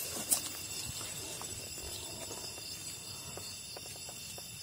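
Crickets chirp at night in a forest, a steady high-pitched insect chorus with faint scattered clicks and knocks underneath.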